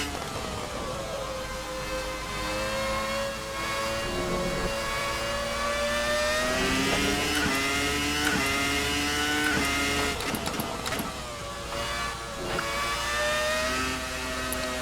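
An RSS Formula 2000 V10 race car in the Assetto Corsa racing game screams through a lap. The high-pitched engine rises and falls in pitch through repeated upshifts and downshifts, sounding continuous and close, with no talking.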